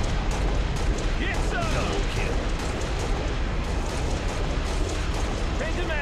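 A grenade blast in the Halo Reach Firefight mode on Installation 04, set in a loud, dense game mix full of gunfire and rumbling booms, with players talking over it.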